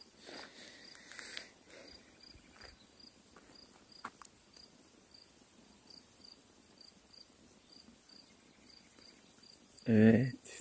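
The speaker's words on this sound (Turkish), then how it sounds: "Bu alanda ciddi bir şekilde çekirge istilası var." Grasshoppers chirp during a heavy infestation around a mountain house: faint, evenly repeating high pulses keep a steady rhythm in quiet surroundings, and someone briefly speaks near the end.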